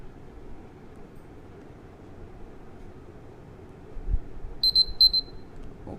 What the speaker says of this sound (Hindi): Now timer is set.